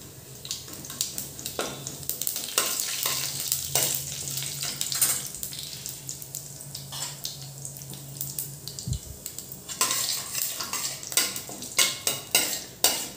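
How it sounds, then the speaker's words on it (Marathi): Mustard seeds and cumin crackle in hot oil for a tadka in a potato curry, a continuous close hiss with scattered sharp pops and occasional stirring clinks. "मोहरी छान तळून झाल्यावर"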